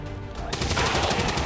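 Automatic gunfire from the video game XCOM 2 rattles out as a rapid burst of shots, loud and close, lasting about a second after a brief lead-in.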